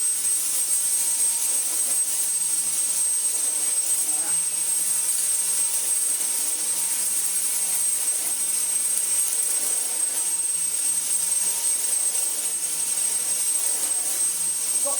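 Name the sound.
Dyson V10 cordless vacuum cleaner running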